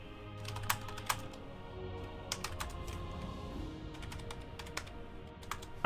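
Rapid typing on a computer keyboard, with dense irregular key clicks and a few sharper strokes, close and fairly quiet over a low steady background hum, no speech.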